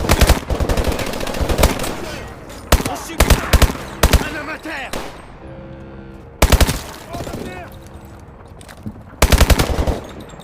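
Rapid bursts of submachine gun fire rattle out in Call of Duty Advanced Warfare, several loud volleys separated by brief lulls of lower combat noise.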